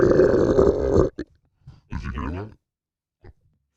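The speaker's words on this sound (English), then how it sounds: "do need to sort of burp." A man lets out one long, loud, close-up burp, followed by a few quiet grunting noises and a short throaty sound after a pause.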